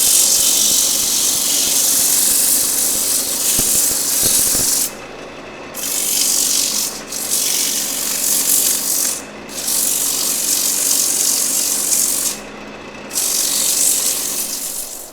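Power sanding a cake stand built from Kentucky bourbon barrel staves, a steady loud whirring rub that stops briefly three times and then resumes, with no voices.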